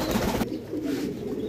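Pomeranian pouter pigeons give low, soft coos close by. A brief rustle comes first, then a few murmuring coos follow without any talking.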